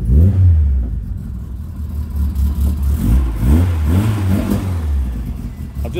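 A cold 1978 Ford Escort RS2000 engine rumbling and revving outside a building, a deep throbbing idle that rises in a few throttle blips, close and loud, with someone talking over it.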